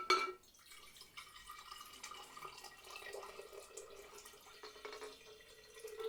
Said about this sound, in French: on va prendre notre pot et on va mettre de l'eau dedans